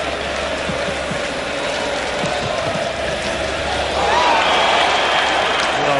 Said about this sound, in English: the Englishmen in the crowd in the background starting to sing again